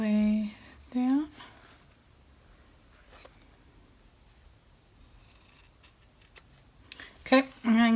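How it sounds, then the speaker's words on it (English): Heavy duty scissors cutting through layered fabric and a zipper on an in-the-hoop lined bag, a few soft crunching snips under quiet near-silence, with a voice talking at the start and end. "you need some heavy duty scissors to get through the extra zipper and everything"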